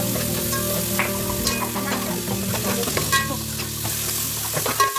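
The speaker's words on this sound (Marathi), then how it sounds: "नंतर मग बारीक चिरलेला कांदा टाका. कांदा चांगला परतून घ्या." Finely chopped onion sizzles steadily in plenty of hot oil in a pot over a medium flame, with continuous frying crackle and frequent scraping of a spoon as it is stirred.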